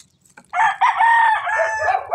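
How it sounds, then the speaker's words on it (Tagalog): A rooster crows once, loud and close, a long strained call lasting under two seconds with no talking. "Oh, meron pang manok."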